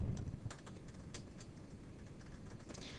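Computer keyboard typing while a name and email address are entered into a web form on a Tomcat-served JSP page; quiet, irregular key clicks run steadily throughout, with no talking.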